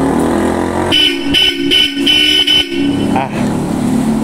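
Loud Bosch Europa horns on a 2024 Ford Ranger Raptor blasting in short bursts, several honks in a row with brief gaps, close by.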